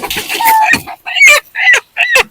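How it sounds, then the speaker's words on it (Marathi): Live chickens kept at a Pune restaurant cluck loudly and close by, giving a run of four or five sharp, separate calls with short pauses between them. "अशा प्रकारे आपण जिवंत कोंबड्या ठेवलेल्या आहेत"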